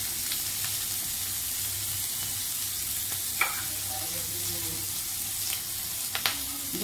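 Cumin seeds crackle in hot oil with chillies in a pan, a steady close sizzle broken by scattered sharp pops and a few louder snaps near the end; no voices are heard.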